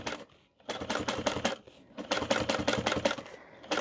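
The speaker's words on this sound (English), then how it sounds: "I'm just going to start stitching" A sewing machine stitches a zipper onto a laptop tote bag in quick rattling bursts, two long runs of rapid needle strikes split by a brief pause, close and clear with no talk.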